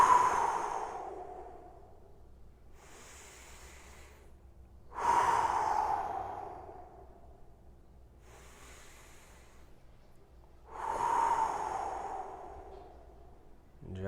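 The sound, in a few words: deep breathing during a 90-90 stretch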